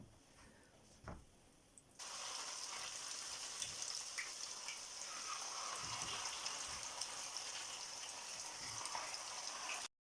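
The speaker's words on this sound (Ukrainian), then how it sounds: "зараз буду смажити мітітілі" Hot oil sizzles steadily in a pan as mititei meat sausages start frying, a loud continuous crackle after a brief quieter moment with a light clink.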